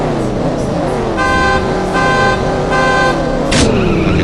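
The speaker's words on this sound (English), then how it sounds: "So it sounds like a muscle car." A muscle car engine in the racing game CSR Racing revs loudly, climbing and dropping through repeated gear shifts, with horn-like tonal bursts and a sharp shift at the end.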